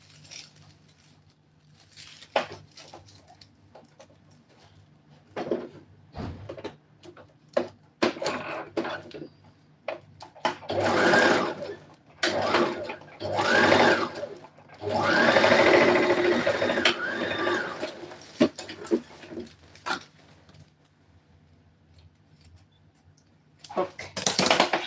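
A sewing machine runs in several bursts while stitching a dress seam, with quiet pauses between runs and a loud sustained stretch in the middle, set among handling noises and occasional talk.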